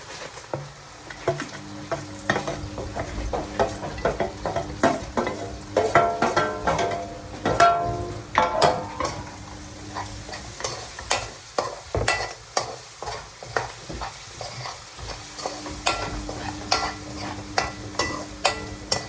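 Onions frying and being stirred in a pan for bhaji, steady close sizzling broken by frequent sharp scrapes and clatters of a utensil against the pan, with no talk.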